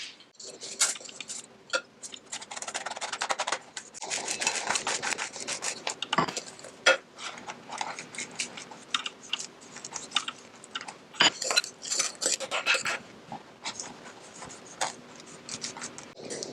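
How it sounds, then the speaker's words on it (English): A spoon scrapes and rubs through a sandy crumb crust mixture as melted butter is stirred in, giving dry, gritty rasping strokes in irregular bursts close to the microphone with no talking. "when you're stirring that butter in, you just kind of want it to feel like sand"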